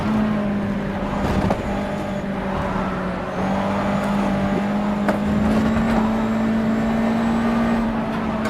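A USF2000 race car engine in the rFactor 2 racing game at Watkins Glen holds a loud, steady high drone throughout, pitch shifting slightly with gear and throttle changes, with no talk over it.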